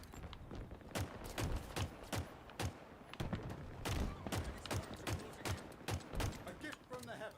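Rapid bursts of gunfire during a Halo match, a string of sharp repeated shots in uneven volleys with brief gaps, fairly close and punchy, with game sounds mixed in.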